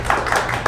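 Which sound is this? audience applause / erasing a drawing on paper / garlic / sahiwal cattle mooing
audience applause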